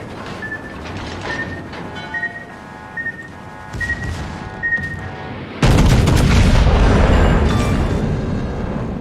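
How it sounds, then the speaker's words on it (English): An enemy destroyer blowing up in the naval combat game World of Warships, a sudden heavy blast that erupts out of quieter gunfire and tonal alert beeps, then rolls on as a loud sustained roar. "Enemy destroyer blown up."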